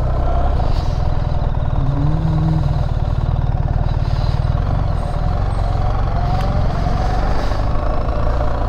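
A BMW R1300GS motorcycle engine runs steadily close by, a loud, continuous low rumble with a faint rising whine partway through, heard alone without talk.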